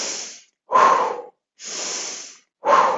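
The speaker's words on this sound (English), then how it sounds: "Big breaths." Deep diaphragmatic breathing with big huffing breaths: four strong, close breaths alternating between longer airy inhales and sharper forceful exhales in a steady rhythm.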